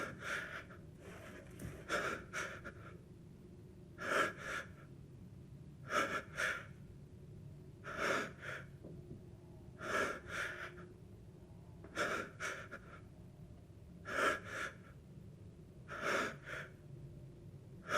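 Heavy, rhythmic breathing of the player character in Resident Evil Village, loud sharp inhale-exhale bursts repeating roughly every two seconds over a low ambient game drone, with no talk.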